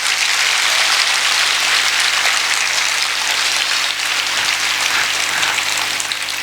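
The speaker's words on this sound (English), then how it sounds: "let us give him a big round of applause" An audience of students gives a big round of applause at a school Independence Day celebration, a loud, sustained crackle of many hands clapping that continues unbroken throughout.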